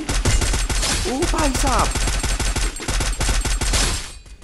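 Rapid bursts of gunfire in the mobile battle royale game Garena Free Fire crackle in dense, repeated volleys, loud and close, with someone speaking briefly over the shooting.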